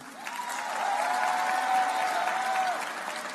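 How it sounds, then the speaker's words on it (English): Conference audience applauding a high school team after a pitch competition at an opening plenary, a broad wash of clapping that swells and holds for about three seconds. "One more round of applause for Berryville High School."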